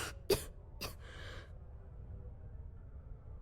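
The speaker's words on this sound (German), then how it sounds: "Das Husten klingt gar nicht gut" A character in Starfield coughs three times in quick succession, short harsh bursts followed by a softer breathy exhale, then quiet low background ambience.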